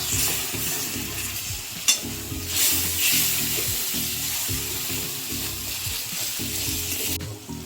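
Masala frying in about 50 grams of oil for paneer ghugni while being stirred, a steady close sizzle with scraping utensil strokes against the pan and a brief clack near two seconds.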